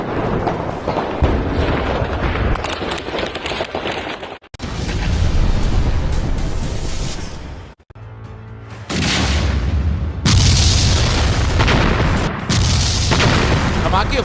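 Explosions from Russian air strikes on Mariupol, Ukraine, with heavy booms and rumbling blasts. They come loud and close in several bursts separated by abrupt cuts, with a dense roar filling the gaps.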